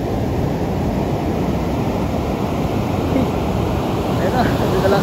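Strong ocean surf at a beach resort in Morong, Bataan, a steady loud roar of breaking waves with wind buffeting the microphone throughout.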